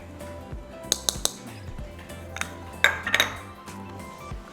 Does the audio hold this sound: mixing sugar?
yes